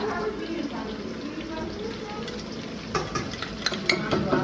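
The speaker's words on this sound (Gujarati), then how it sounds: "જો આપણે એમાં કાંદા નાખી દીધા છે અને પ્યોર સિંગ તેલમાં આજે આપણે બનાવવાની છે ભાજી" Onions and ginger-garlic paste frying in pure groundnut oil in a large pot, with a steady sizzle and occasional scraping stirs growing busier toward the end, under someone talking.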